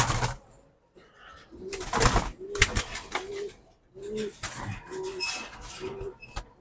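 Jabra Pankhi pigeons coo repeatedly from cages nearby, a string of low rhythmic coos mixed with rustling and clattering movement.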